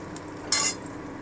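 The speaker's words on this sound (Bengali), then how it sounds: "এবারে আমি আলুটা দিয়ে দিচ্ছি আলুটা দিয়ে খুব ভালো করে ভেজে নেব" Potatoes frying in a pan get one quick stir: a short scraping sizzle stands out from an otherwise quiet, low background.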